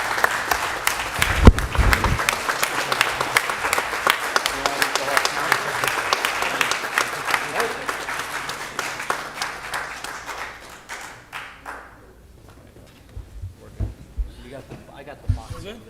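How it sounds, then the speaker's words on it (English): People at a city council reorganization meeting give a round of applause in a room, bursts of clapping that fade out after about eleven seconds, followed by scattered handling sounds and a few voices. "let's give our council president, the outgoing council president, Flavio Rivera, a round of applause"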